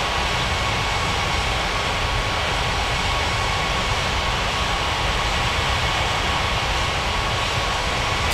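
Jet airliner taking off in the air traffic control game Unmatched Air Traffic Control, a steady broadband engine roar that holds at an even, loud level throughout with no voices.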